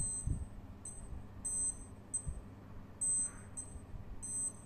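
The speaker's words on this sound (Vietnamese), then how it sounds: "Chuông rất là to luôn cả nhà ơi" A wristwatch alarm beeps in rapid, high-pitched electronic bursts, repeating in short clusters with brief pauses, loud and close.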